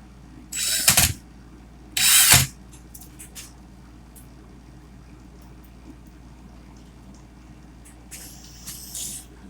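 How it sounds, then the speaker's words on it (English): A power drill running in forward for a craft build, heard as two short whirring bursts of about a second each, then quiet handling noises and a softer burst near the end. "my drill is in the forward motion."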